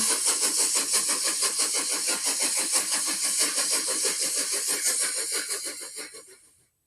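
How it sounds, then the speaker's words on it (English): A train sound effect played during a general music lesson: rapid rhythmic chuffing bursts repeat steadily and loudly, then fade away over the last second or so. "This is the train."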